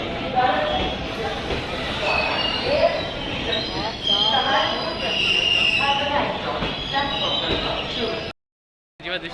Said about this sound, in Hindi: ये मेरी फर्स्ट ट्रेन जर्नी थी